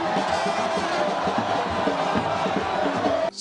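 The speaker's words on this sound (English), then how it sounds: "The crowd chanted his name amidst cheers." Large crowd at a political campaign rally chanting and cheering for a candidate, a dense continuous roar of many voices with rhythmic pulses, fairly far and steady throughout.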